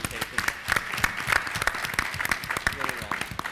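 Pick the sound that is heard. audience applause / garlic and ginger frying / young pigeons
audience applause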